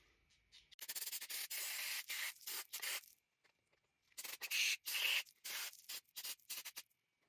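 Short hissing bursts of brake cleaner sprayed onto a 1995 Honda CR250 two-stroke dirt bike carburetor, close up, coming in several separate blasts with brief pauses between them and no talking.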